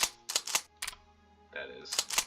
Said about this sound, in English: Sorry about the clicking, everybody.